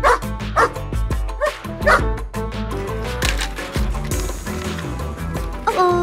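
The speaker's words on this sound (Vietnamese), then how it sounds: "Wow, một con chó màu nâu." A brown dog in a children's animation barks in short, repeated yips over loud, bouncy music, several barks spaced through the clip.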